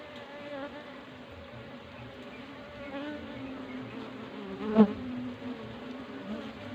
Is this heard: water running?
no